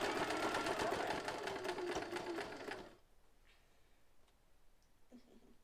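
A sewing machine back stitches, making a close, rapid mechanical ticking and whirring for about three seconds before stopping abruptly, followed by faint clicks and quiet room noise.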